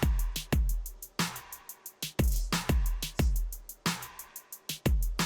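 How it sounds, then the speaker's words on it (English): An electronic drum section from a K-pop cover song plays punchy kicks, trap-style snare accents and fast ticking hi-hats in a tight, loud, repeating groove with no voices. "that's the E drum portion of the song"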